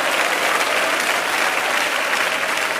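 Church congregation applauds loudly and continuously, a thick, sustained roar of many people clapping with no gaps.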